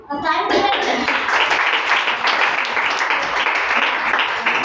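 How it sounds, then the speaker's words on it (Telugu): Schoolchildren at a primary school event in Vijayawada break into loud, sustained applause that sets in sharply and holds steady for several seconds, with children's voices mixed in. "thank you thank you claps"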